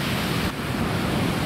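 Sea waves at the shore wash in as a loud, broad roar, mixed with wind buffeting the microphone, continuous for a moment with no voices.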